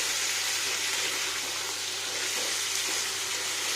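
Carrots, beetroot, Malabar spinach stems and pumpkin sizzle steadily in a pan while being stirred, producing a dense, continuous hiss close by with no talking.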